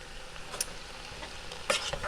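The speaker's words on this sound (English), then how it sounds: "they've been sauteing for about 3 minutes" Whole Foods sausage and vegetables sauté in a pan with a quiet, steady sizzle, broken by a few sharp clicks and scrapes of stirring near the end.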